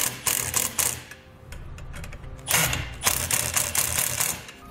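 A 3/8 socket ratchet tightening two nuts on a trailer mounting bracket, bursts of quick close clicking with short pauses between strokes.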